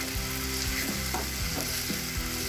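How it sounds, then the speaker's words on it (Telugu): Onions sizzle and fry loudly in a pan for a Telugu fresh coconut curry, a dense steady crackle mixed with scraping stirs of a utensil against the pan, no talking. "ఉల్లిపాయలు వేగాయి కదా"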